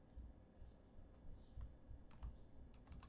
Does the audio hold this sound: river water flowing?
no